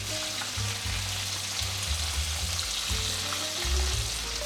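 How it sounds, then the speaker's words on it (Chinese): Potatoes deep-fry in hot oil until golden, a steady close sizzle with rolling low bubbling that swells and ebbs without pause. "再继续让它炸至金黄色"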